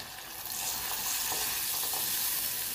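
Sautéed peppers sizzle loudly in olive oil as room-temperature water is poured in, giving a steady, close, dense hiss and crackle with no talking.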